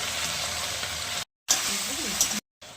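Sesame seeds hit a hot pan with a dry red chilli, giving a steady, moderate sizzle broken by two short silent gaps, with a few brief pops.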